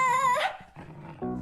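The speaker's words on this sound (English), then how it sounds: "Ungrateful dog." A cartoon dog in The Fixies gives a short high whine, then low, rough growls, close and fairly loud, with no talking.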